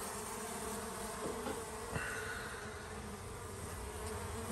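Honey bees buzzing densely around a hive feeder, a close, steady drone of many wings continuing without pause, with a faint knock partway through and no talking.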